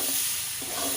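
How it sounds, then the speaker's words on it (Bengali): Eggplant frying in a pan is stirred after the lid comes off, with a steady hiss of sizzling oil and a couple of brief scraping strokes. "এই যে ঢাকনাটা খুলে সুন্দর মিশিয়ে নিচ্ছি।"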